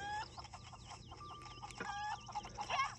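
A cucco chicken from Zelda: Link's Awakening for Switch clucks repeatedly in quick, high, squawky bursts, with a constant low game hum underneath.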